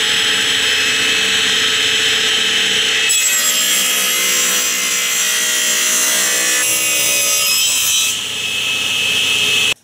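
A power saw blade feeds through wood stock clamped in a jig, cutting a bridle joint; a loud, steady whine and rasp runs for nearly ten seconds, shifting in tone partway through and cutting off abruptly at the end.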